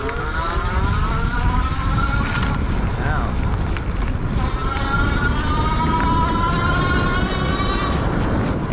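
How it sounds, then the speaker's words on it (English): Rad Power Bikes RadRunner 3 Plus e-bike at its highest pedal-assist level, a rising motor whine with gliding tones heard over loud, steady wind and road rumble while riding. "I like to do this in the highest level of assist so you can really hear that motor"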